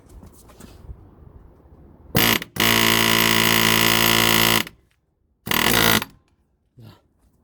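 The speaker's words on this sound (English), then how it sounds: "I'm going to use air hammer" A pneumatic air hammer works on a Hyundai i800 D4CB engine during an engine replacement, firing in loud sustained bursts of rapid hammering, a short one, a long one of about two seconds and another short one, separated by quieter workshop sound.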